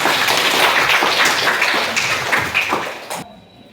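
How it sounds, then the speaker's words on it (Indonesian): A class of students applauds during a mathematics lesson, a loud, busy rattle of many hands that holds steady and then cuts off sharply near the end. "Luar biasa, tepuk tangan"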